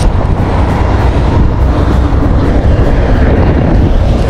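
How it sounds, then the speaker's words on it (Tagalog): Strong wind from Typhoon Gaemi in Taiwan batters the microphone outdoors, a loud, constant low rumble with rough buffeting gusts throughout. "Lumalakas na naman yung hangin mga katropa."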